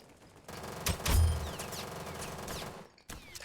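Rapid Uzi gunfire from the Roblox shooter Aimblox crackles in a dense burst of close shots that lasts a few seconds, then stops, followed by a single sharp report.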